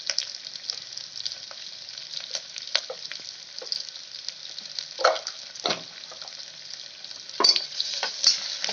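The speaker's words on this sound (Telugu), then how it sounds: "ఇది కూడా కొంచెం పచ్చివాసన పోయిందాక కాస్త వేగనివ్వాలి." Ginger garlic paste frying in a pan with curry leaves and onions for a spinach pulao, a steady close sizzle with stirring scrapes and a few louder spatters, no talking.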